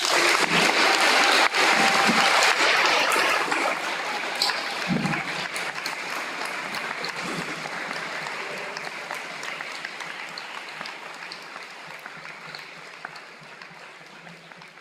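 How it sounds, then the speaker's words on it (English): Audience applause at a high school awards ceremony, a burst of many hands clapping that starts loud and gradually thins and fades over the following seconds. "Let's give them a great round of applause."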